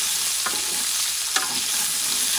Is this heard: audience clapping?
no